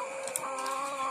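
Laying hens cluck softly in a poultry house, a run of short repeated clucks over a low steady background hum.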